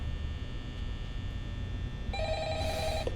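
A low electronic hum runs throughout, then a telephone starts ringing near the end with a bright trilling tone, in the video game Five Nights at Freddy's.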